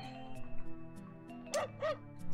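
A dog in the PS1 Japanese RPG Ryuki Densyo: Dragoon gives two short, bright yips near the end, heard over a steady bed of game music.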